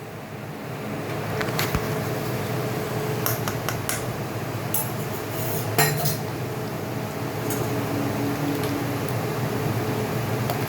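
Ground fried prawn paste being stirred into patol bharta, a mash of pointed gourd, with a spoon scraping and clinking against the pan a handful of times over a steady background hum.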